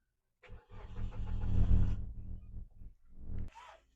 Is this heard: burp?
no